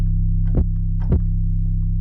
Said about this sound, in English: so let's get into this 808.